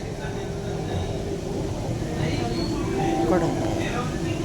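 Bengaluru metro train running on the last service of the night, heard from inside a nearly empty car: a steady low rumble and hum with a faint whine, continuous throughout with no one talking.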